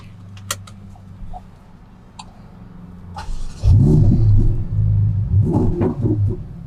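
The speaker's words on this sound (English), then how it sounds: "I'm going to take this one for a short drive." A Ferrari pulls away, its engine rising from a low idle rumble into a loud, close roar that surges and dips as it drives off, with a few brief clicks beforehand.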